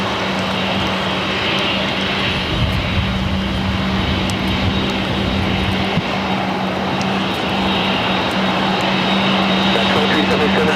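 A fixed-wing airliner departs at Los Angeles LAX airport, its jet engines producing a loud, unbroken roar that holds steady throughout, with voices faintly present underneath.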